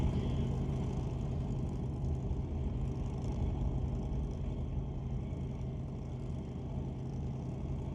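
A 1931 Ford Model A hot rod at a drag race, heard as a steady, dense low engine rumble that holds at an even level throughout with no clear revving or pauses.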